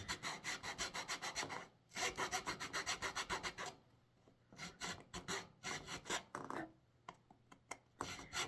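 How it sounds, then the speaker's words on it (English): A coarse file rasps over a wooden flute kit in quick, even back-and-forth strokes, loud and close, in two long bursts followed by shorter, spaced-out strokes. "gonna try a coarser file."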